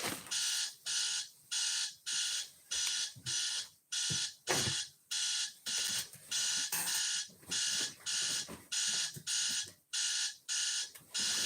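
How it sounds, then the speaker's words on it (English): An alarm clock ringing in a steady pulsing pattern of loud, bright electronic bursts separated by short gaps, repeating over and over close by with no talking. "Hold on, I gotta turn off my alarm."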